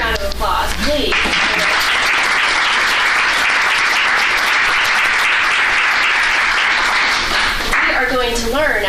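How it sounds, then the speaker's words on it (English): Sustained applause fills a council meeting room after an opening panel's closing remarks at a health equity policy gathering, loud and steady for several seconds, with a voice speaking briefly before and after. "I want to give a big round of applause, please."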